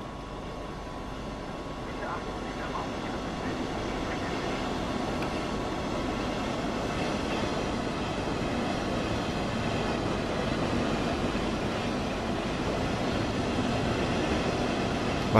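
A train pulls into a station on the Riesa–Dresden line branch toward Meißen in Train Sim World 2, a steady broad rumble and rolling hiss building slowly and holding loud throughout, with faint talk beneath.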